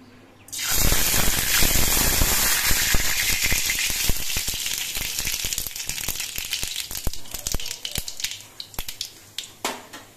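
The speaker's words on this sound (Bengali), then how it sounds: "এবার এই তেলের মধ্যে দিচ্ছি অল্প করে একটু কালো সর্ষে।" Black mustard seeds are dropped into hot mustard oil in a wok and burst at once into a loud, steady sizzle, with scattered popping crackles that thin out toward the end.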